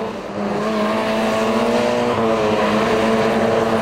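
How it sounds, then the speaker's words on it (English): Racing cars at a 750 Motor Club race at Donington Park, with engines droning steadily and loud throughout as the field circuits the track. "I think that car that was going slowly was the number 18 car of Jonathan Clements"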